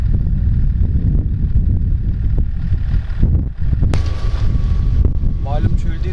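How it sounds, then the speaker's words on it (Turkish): Steady outdoor wind buffeting a microphone in the desert, a constant low rumble with some gusty swells and a few brief higher tones near the end. "Güneş tam tepede olmadığı sürece hava her zaman soğuk, her zaman rüzgarlı."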